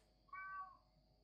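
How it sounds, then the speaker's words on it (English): Amid a faint steady hum in the game Mount Your Friends, a cat gives one short, quiet meow, rising briefly then fading, with nothing else around it. "There appears to be a cat on the field."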